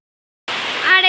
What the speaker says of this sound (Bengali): এদিকে জোরে বৃষ্টি হচ্ছে